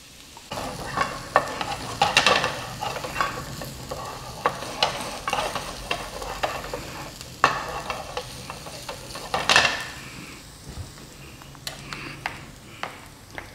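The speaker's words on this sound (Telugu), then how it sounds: "ఇలా గోల్డెన్ కలర్లో వచ్చేదాకా ఫ్రై చేసుకోండి." Paneer pieces fry in hot oil until golden, a close sizzle broken by repeated scraping and stirring clatters of a utensil against the pan.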